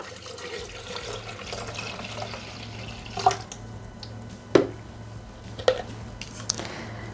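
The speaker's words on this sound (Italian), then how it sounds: "Aggiungere l'acqua" Water is poured into a Thermomix bowl while making mint lemonade, a faint, steady trickle over a low hum, broken by a few soft splashes and knocks.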